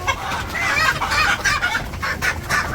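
A hen on a village homestead clucks restlessly while searching for a spot to lay her eggs, a close run of short repeated clucks.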